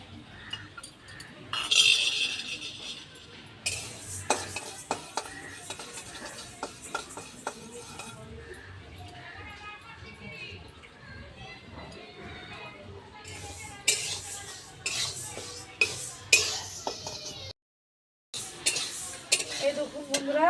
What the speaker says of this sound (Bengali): এবার মুগ ডালটাকে আমি ভেজে নেব।